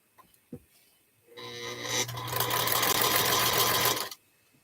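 A sewing machine stitching fabric pieces for a table runner starts after a few small handling knocks, then runs in a steady close whirring burst for about three seconds before stopping.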